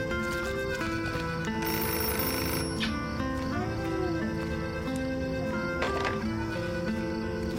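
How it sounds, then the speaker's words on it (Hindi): A telephone rings in a home during a drama scene, its bell tones repeating through the clip over background music and ambience. "ओह, टेलीफोन।"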